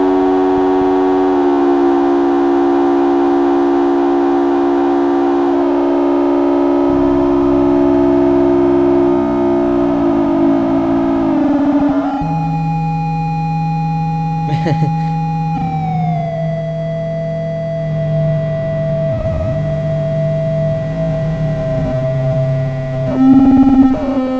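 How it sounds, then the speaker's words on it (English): A loud, continuous Soma Lyra-8 synthesizer drone from cross-modulated oscillators, with buzzing harmonics that shift pitch in steps, sliding between sustained tones with a harsh, siren-like edge. "So these two oscillators are modulating these two. Cross modulation."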